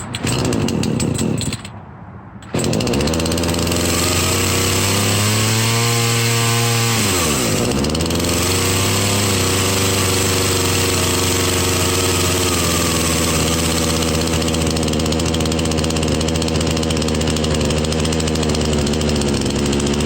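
Craftsman 18-inch chainsaw, unused for a year, fires up after a brief gap and runs loud and close, revving up and down, then settles into a steady rough idle.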